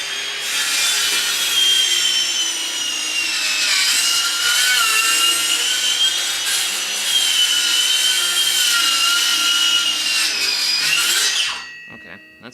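A power saw cuts through cedar wood with a sustained high-pitched whine and rasping bite, the motor dipping and straining under load before winding down near the end.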